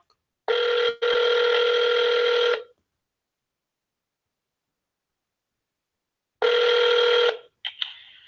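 Telephone keypad tones as an extension is entered: a short beep, a longer held tone, then after a silent pause another tone and a brief chirp, loud and close, with no voices.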